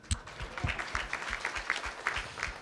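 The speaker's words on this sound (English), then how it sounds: "Can we have a round of applause for them?" An audience gives a round of applause, a steady patter of many hands clapping at moderate volume for a few seconds.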